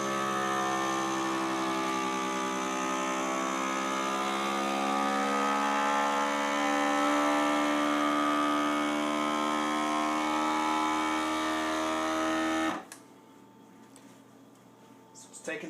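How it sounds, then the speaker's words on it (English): A vacuum sealer pumps the air out of a jar of canned tuna being prepared for dehydrating, giving a loud, steady motor whine close by that runs about twelve seconds, then cuts off abruptly into near silence. "I'm going to hit the vacuum seal button here. And what you'll see is basically it'll take the air out of that jar"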